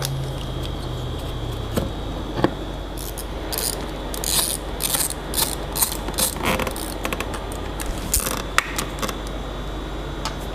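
A ratchet clicks in short bursts while undoing small 8mm fasteners on the fuel tank and cooler unit of a Mercury 40 outboard's fuel injection system, close and fairly loud over a low steady hum, with no voices.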